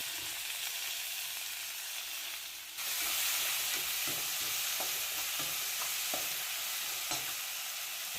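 Sliced tomatoes sautéing with ginger garlic paste for a chicken gravy, a loud steady sizzle that swells as the tomatoes go in, followed by a run of light, irregular stirring clicks against the pan, close and continuous without talk.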